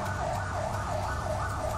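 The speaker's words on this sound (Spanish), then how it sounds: "ya está la ambulancia acá, no oigo." An ambulance siren wails at an accident scene at a terminal, loud and near, cycling up and down in a steady repeating pattern over a low rumble of traffic.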